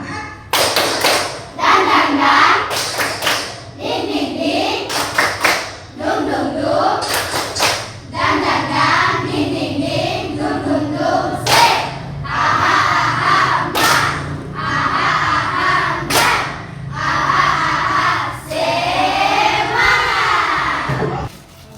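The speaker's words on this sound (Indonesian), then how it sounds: "Kita lanjutkan dengan tepuk semangat ya." A classroom of children performs a rhythmic spirit clap, loud group claps and thumps in repeated patterned bursts with shouted chanting between them, close and lively throughout.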